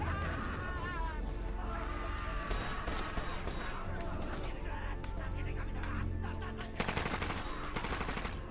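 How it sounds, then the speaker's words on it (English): Rapid automatic gunfire from Call of Duty Modern Warfare 2, with Russian terrorists opening fire on civilians in an airport, crackles in dense continuous bursts over a layered game soundtrack, with a heavier burst near the end. "the Russian terrorists walk into an airport and open fire on civilians"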